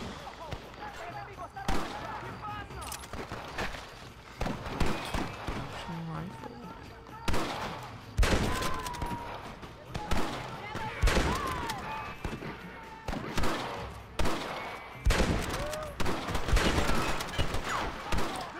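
Gunfire in the Western video game Red Dead Redemption, repeated loud shots in bursts across a gunfight, mixed with game sounds and occasional voices in between.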